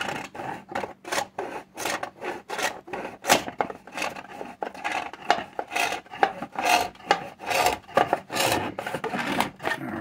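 A Dremel tool fitted with a saw blade cuts into a model ship hull section, giving a rapid, rasping stream of loud scraping strokes that pulse irregularly and close up, with no speech.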